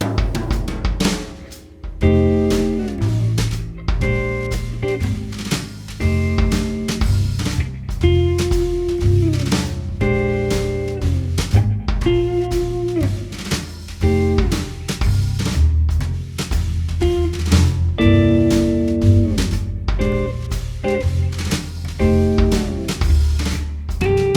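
A guitar plays a jazzy blues groove, mixing chords and single-note lines over a steady low bass line, loud and continuous throughout.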